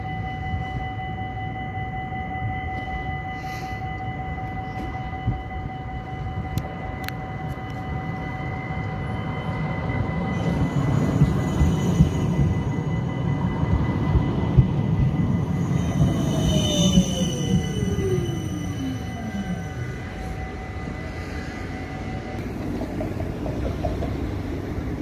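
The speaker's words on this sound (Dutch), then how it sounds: "Ik lette even niet op, de tram kwam er al aan." A GVB tram rumbles into Amstelveen Stadshart stop and slows, its wheels squealing in a long descending whine before the noise settles into a steady idle hum.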